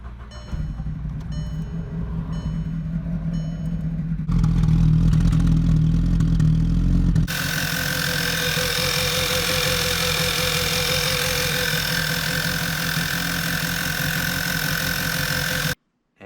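A Volkswagen Mk6 GTI with freshly installed spark plugs hesitates as it tries to start, then settles into a steady, close idle that runs on evenly until it cuts off.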